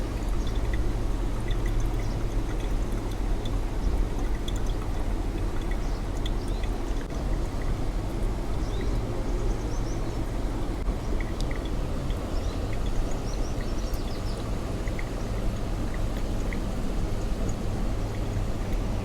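Water is poured over Ethiopian coffee grounds in an Aeropress, a steady, continuous close-up trickle and splash that runs unbroken with faint drips throughout.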